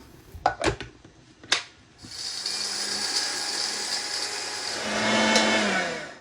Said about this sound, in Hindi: अब इस सारे मिक्सचर को ना मैं ब्लेंड कर लूँगी अच्छे से।